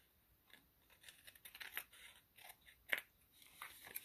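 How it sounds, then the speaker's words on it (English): Scissors trim the edges of paper for a junk journal, giving a run of soft, quiet snips and crisp cuts at an uneven pace. One sharper snip stands out near the end, and nobody speaks. "And trim our top down a little bit where we have it right along the edge there."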